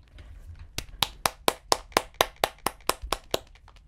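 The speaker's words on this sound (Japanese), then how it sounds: "一度拍手" A single person claps about a dozen times in a steady rhythm, each clap crisp and close, a short round of applause at an awards moment in a GTA5 role-play game session.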